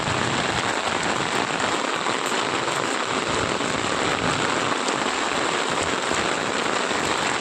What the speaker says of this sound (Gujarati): બનાસકાંઠા જિલ્લામાં અતિ ભારે વરસાદ